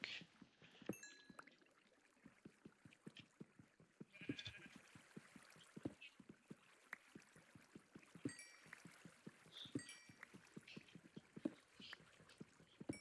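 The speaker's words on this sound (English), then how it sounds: "I hear sheep." Sheep bleat in the video game Minecraft, several short bleats scattered across the clip over a steady series of sharp clicking and tapping sounds, fairly quiet overall.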